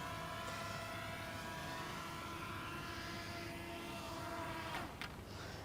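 A Bwine F7 Mini GPS drone descends and touches down outdoors, its steady high-pitched propeller whine constant and fairly distant throughout, ending with a brief sharp tap at landing.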